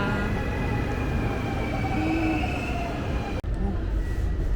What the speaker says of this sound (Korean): 드디어 잔담 가는 기차가 들어오고 있습니다.